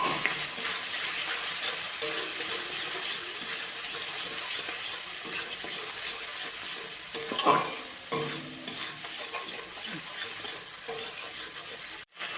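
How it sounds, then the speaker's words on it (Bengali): Spice paste with chili powder sizzles steadily in hot oil for an egg dish, a continuous close frying hiss broken by occasional stirring scrapes, cutting off abruptly at the end. "এই ভালো করে মশলাটাকে কষাবো"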